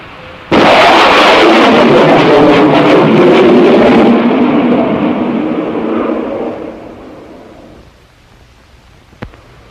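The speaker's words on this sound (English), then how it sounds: "It is the sonic boom you hear from a supersonic airplane" A sudden loud sonic boom from a supersonic airplane rolls into a long broad rumble, fading gradually over several seconds, with a faint pop near the end.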